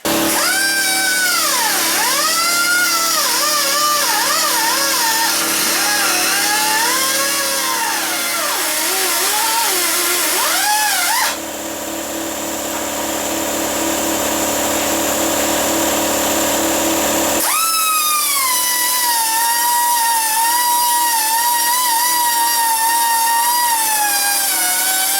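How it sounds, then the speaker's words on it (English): A power tool cuts through the weld on a car K-member, a loud continuous whine with shifting pitch that drops to a duller grinding tone midway, then returns to a high, steady cutting scream. "now we need to cut this one back and then cut the weld up here"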